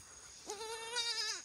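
A newborn goat kid gives a single clear, fairly close bleat that starts midway and holds its wavering pitch for about a second against a quiet barn background.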